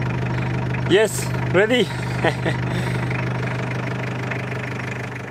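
A 1991 Mitsubishi L300 van's engine runs steadily with a low, even hum throughout while people talk briefly over it.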